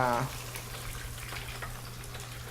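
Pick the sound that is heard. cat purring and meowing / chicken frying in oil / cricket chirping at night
chicken frying in oil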